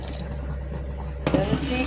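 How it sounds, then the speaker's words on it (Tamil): Water pours into a metal cooking pot for ladies finger sambar, a brief splashing rush after a stretch of low kitchen clatter and hum. "இப்போ நம்ம தண்ணி ஊற்றிக்கலாம்."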